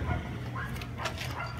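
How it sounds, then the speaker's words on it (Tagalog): A puppy gives quick high yips and whimpers at close range during a short vacation in Cavite City, brief and somewhat faint amid background noise. "Tuta."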